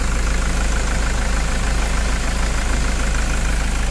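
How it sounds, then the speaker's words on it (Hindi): A Toyota Fortuner engine idles steadily and evenly at close range, a low, smooth continuous hum with no knocking or gaps. "हमारे इंजन का फायरिंग देखिए और साउंड सुनिए एकदम स्मूथ है।"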